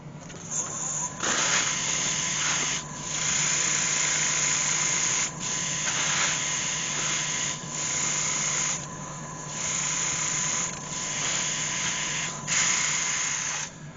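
A spinning wood-turned honey pot is sanded on a lathe, giving a steady close whirring hum with a bright scratchy hiss that swells and eases in repeated passes as the sandpaper is pressed and lifted.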